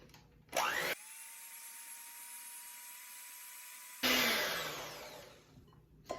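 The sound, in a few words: electric mixer whisking egg whites on low speed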